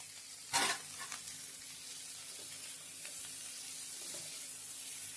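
Chopped potato and yardlong beans land in a hot pan with a burst of sizzling, then settle into a steady, moderately loud frying hiss with a few faint stirring clinks, and no voices.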